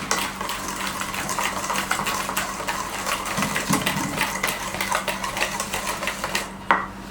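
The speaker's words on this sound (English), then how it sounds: "you whisk it till the granules are weakened or completely broken out" An egg yolk mixture is whisked briskly in a bowl, making rapid rhythmic metallic clicks and scrapes that run continuously at close range over a low background hum.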